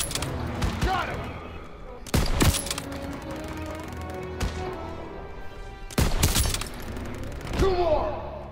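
Gunfire in the video game Call of Duty: WWII, with a few loud bursts of shots separated by quieter stretches of game sound and faint voices.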